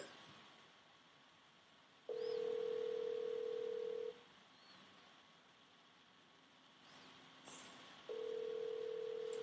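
Telephone ringback tone while a call is placed, two long steady electronic tones about two seconds each with a pause between, heard faintly over low background hiss.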